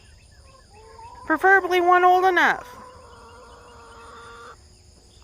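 Farm chickens being picked out for home processing give a loud, harsh squawking cackle that drops into a thinner drawn-out call, close to the microphone while a person speaks.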